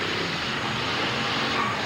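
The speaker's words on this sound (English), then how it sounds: "Got a throttle stuck out there on some car. You can hear it revving way, way up." A car at a 1998 Massachusetts demolition derby revs high with a stuck throttle, a continuous, roaring engine drone that stays strong and unbroken throughout.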